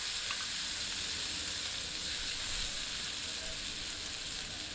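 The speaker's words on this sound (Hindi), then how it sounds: "आवश्यकता अनुसार थोड़ा थोड़ा घी संयोजित करते जाते हैं और इन्हें भूनते जाते हैं।" Paneer tikka pieces fry in ghee on a flat tawa, giving a continuous, fairly quiet sizzle with a faint crackle throughout and no other sounds.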